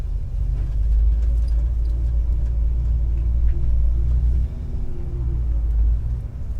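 Car with 3.55 gears and a posi rear end accelerating along a straight road, a loud, deep rumbling engine drone that swells and holds steady for several seconds with no talking.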